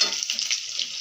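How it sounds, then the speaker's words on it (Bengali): Potatoes fry in a pan for egg curry, making a brief, moderately loud hiss of sizzling oil with no talking. "লাল লাল করে আলু ভাজছি ডিমের ঝোলের"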